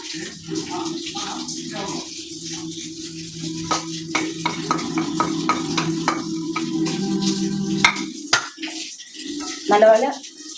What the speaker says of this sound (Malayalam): നല്ലതുപോലെ വറുത്ത് മൂപ്പിച്ചെടുക്കാം.